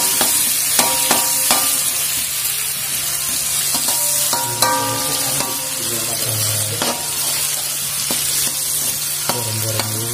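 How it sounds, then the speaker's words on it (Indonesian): Fried rice ingredients frying in a pan, with a continuous sizzle broken by repeated stirring knocks and scrapes of a utensil, close and fairly loud, with no talk. "Goreng-goreng dulu."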